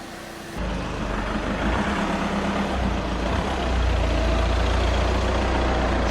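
An Audi TT's engine runs steadily after a brief quieter start, a constant close low rumble and hum that holds at an even level for several seconds with no voices.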